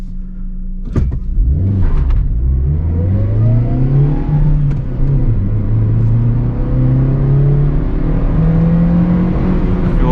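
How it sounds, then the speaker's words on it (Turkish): A Suzuki Swift accelerating hard from a standstill in a 0-100 km/h run, its engine note climbing steadily through the gears with brief shift dips, loud and close from inside the cabin without talk. "Evet burada bir 0-100 testi yapabiliriz."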